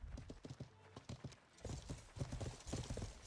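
Several horses gallop in a video game, a quick rhythmic clip-clop of hooves that is close and continuous, with a brief neigh over the pounding steps.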